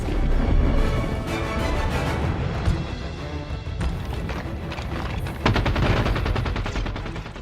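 Rapid bursts of weapon fire from Halo 5, dense and loud, with repeated automatic volleys and sharper single shots over a busy game soundscape.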